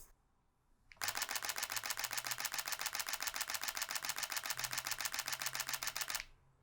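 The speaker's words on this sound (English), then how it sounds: "I'm gonna hold down the shutter button and it's gonna take a bunch of photos with a bunch of flashes on every photo" A Sony camera shoots a long continuous high-speed burst with a Godox V860 III flash firing on every frame: a fast, even machine-gun run of shutter clicks, loud and close, lasting about five seconds.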